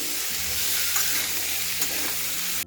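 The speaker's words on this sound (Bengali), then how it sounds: "আর এভাবে আলু এবং কুমড়ো দেওয়ার পর এভাবে নাড়িয়ে চাড়িয়ে দিচ্ছি।" Potato and pumpkin pieces fry in a pan while being stirred, producing a dense, constant close-up sizzle with a few faint scrapes of the spatula and no talking.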